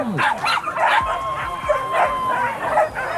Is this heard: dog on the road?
yes